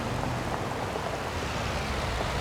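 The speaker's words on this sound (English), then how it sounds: "it has started raining, and that is absolutely wonderful because the fields needed rain" Steady, even rain falling across a custom Montana farm in Farming Simulator 25, a dense continuous hiss of drops with no breaks, moderately loud and alone without voices.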